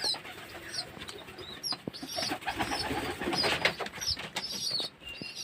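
Pigeons coo in repeated soft, throaty calls close by, overlapping one another, with fluttering and scuffling among the birds throughout.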